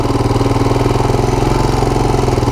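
A worn Honda TRX250 ATV engine idles loud and close, a steady, even, pulsing mid-pitched chug with no revving.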